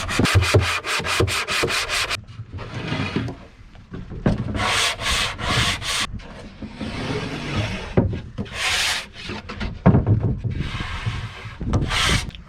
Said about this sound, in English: Don't we all just love these sponge sanders?